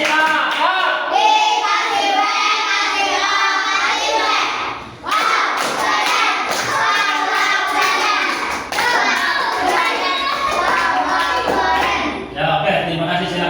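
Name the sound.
class applauding group 1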